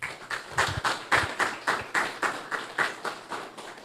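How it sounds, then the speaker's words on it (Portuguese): Church congregation clapping in a steady rhythmic beat, about three claps per second, sustained and fairly loud throughout as if clapping along in praise during a service. "Aplauda o Senhor Jesus."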